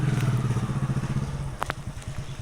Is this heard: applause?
no